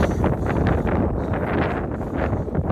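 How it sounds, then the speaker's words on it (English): Heavy, low rumbling buffets from gusts hitting the microphone continue throughout, loud and close. "I'm not sure how the mic's picking me up in this wind."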